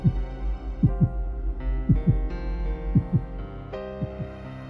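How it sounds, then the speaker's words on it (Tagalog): A slow, steady heartbeat of paired lub-dub thumps repeats about once per second, deep and close, over a low sustained musical drone with no speech. "nais kong pakinggan ang tibok ng puso ng asawa ko"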